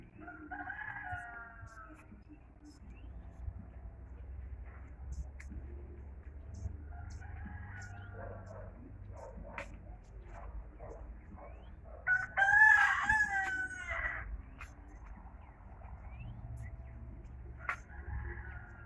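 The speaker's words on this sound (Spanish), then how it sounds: "Por ahí cantó un gallo." A rooster crows at a distance near a cornfield, a few drawn-out calls with one louder crow midway, over quiet outdoor background with occasional faint clucks.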